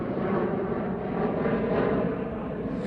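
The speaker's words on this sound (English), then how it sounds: "We've been punctuated with the loudest airplane at the air show." A loud airplane at an air show roars steadily and close for the whole stretch, a broad continuous engine rumble with no break and no talk over it.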